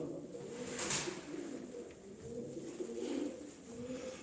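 Purebred Sivas pigeons coo softly in low, rolling murmurs, faint and close, with no talk.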